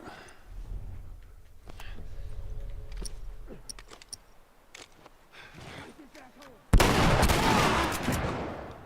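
A shotgun blast in The Last of Us lands as one sudden loud burst near the end, following scattered quieter combat sounds and game noise under talk.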